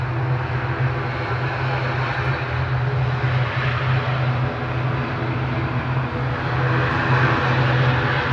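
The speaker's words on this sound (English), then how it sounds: "Shuttle 2 Bravo just touching down from Heathrow, flight 1378 from British Airways, A320neo" British Airways Airbus A320neo touching down at Manchester Airport on a shuttle flight from Heathrow, a steady loud engine rumble with a low drone and broadband roar, sustained without pause.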